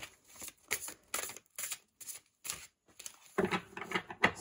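Oracle cards are shuffled and drawn by hand, making a string of quick papery riffles and flicks in short bursts with brief pauses between them, close and fairly soft.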